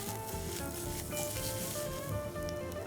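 Spices tempering in hot oil for a Puri Bhaji potato sabji, a steady close sizzle with crackling bubbles and no one speaking.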